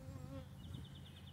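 Honeybees buzzing at a hive box in early spring, a dense steady hum of many insects close by, faint and continuous with no voices.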